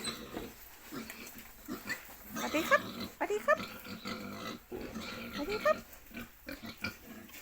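Fattening pigs on a farm grunt, squeal and oink in irregular close bursts, several animals jostling together, with a few sharp squeals standing out above the lower grunting.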